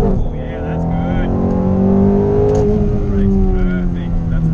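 Ferrari sports car accelerating on a race track, its engine pitch rising through a gear and climbing again, loud and close, while a voice is heard under the engine.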